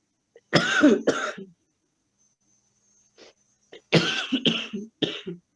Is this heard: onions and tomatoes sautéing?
no